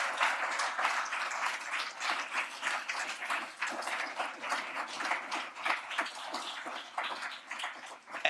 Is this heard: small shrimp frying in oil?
no